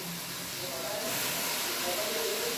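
Chopped green fenugreek leaves dropped into hot oil in a pan, a loud, dense, continuous hissing sizzle that swells slightly and holds steady throughout.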